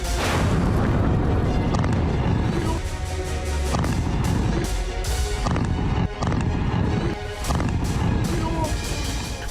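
Oreshnik missiles strike Ukrainian military bases in a loud, dense barrage of heavy rumbling blasts, with sharp crashes breaking through a continuous roar.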